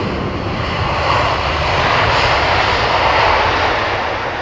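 A loud, steady roar of a Rolls-Royce Trent 700 jet airliner engine at London Heathrow, broadband and continuous, swelling slightly in the middle with no voices.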